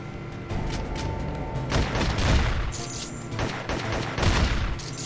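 Gunfire in Infectonator Survivors, a dense crackle of repeated shots with a few louder booming bursts standing out over a constant game background.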